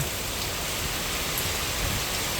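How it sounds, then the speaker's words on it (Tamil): Heavy rain pours steadily in a dense, even hiss, close and continuous, with swirling storm wind pushing it along during flooding in Karainagar, Jaffna. "நல்லா காற்று அப்படியே சுழட்டி பெய்யுது மழை"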